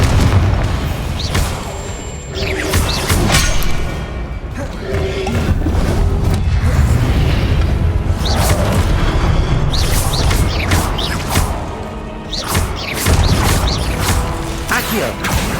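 Booming spell blasts from the Confringo blasting curse in Hogwarts Legacy, several loud bursts and crashes spread across a busy stretch of combat with mechanical clatter and a shouted voice.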